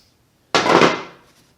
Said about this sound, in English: taking this and thumping on it with a hammer